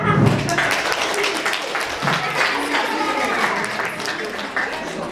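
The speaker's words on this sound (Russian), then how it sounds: "Еще раз аплодисменты." Applause from an audience at a children's song performance, a loud spread of clapping with voices mixed into the crowd noise throughout.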